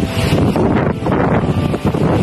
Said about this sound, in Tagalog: Yan, naririnig nyo ba yung hangin? Yung mga dahon dyan. Ang lakas talaga ng hangin ngayon.